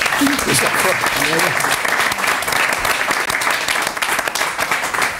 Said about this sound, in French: Allez, on les applaudit, je crois.